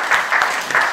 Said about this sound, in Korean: 큰 박수 부탁드리고요